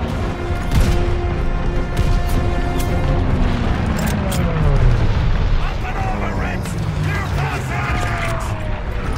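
Bomber raid explosions in the WWII shooter Call of Duty: Vanguard at El Alamein, a continuous loud barrage of booms and rumbling blasts with descending whistles, heavy battle noise throughout and voices shouting over it.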